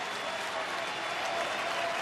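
Large crowd applauding at a baseball stadium during a Rangers home game against Seattle, a dense, even wash of clapping and cheering that holds steady throughout, with faint talk in the background.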